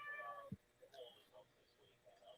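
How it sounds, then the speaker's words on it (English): A pet cat named Kitty gives a short, faint meow at home, a brief sound followed by soft rustling and light household noise. "And now we hear Kitty"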